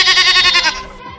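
A sheep gives one loud, close, wavering bleat that lasts about a second and then cuts off.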